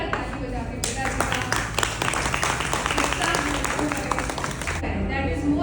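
Hearty audience applause at a seventy-second birthday and book launch celebration, a dense run of many hands clapping for several seconds, starting and tapering off fairly abruptly, with faint voices underneath.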